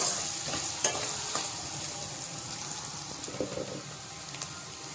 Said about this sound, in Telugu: క్యారెట్ ముక్కలు, కొంచెం ఫ్రై చేసుకున్నాం బ్రౌన్ కలర్ వచ్చేదా